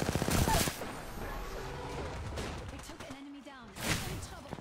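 Gunfire in the game Apex Legends crackles in a rapid burst at the start, followed by a steady hum of game ambience and a louder later burst, with a voice talking partway through.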